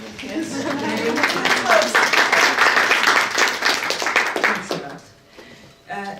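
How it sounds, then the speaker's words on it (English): Audience applause at an open lecture in an art center, a steady mass of clapping hands lasting about five seconds before fading, with voices audible beneath and after it. "this is the big applause for you"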